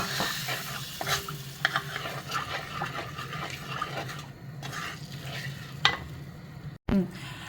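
Tamarind-based ginger curry (inchi curry) bubbling in a pot with intermittent stirring and scraping, a steady low simmer throughout and a brief clatter near the end.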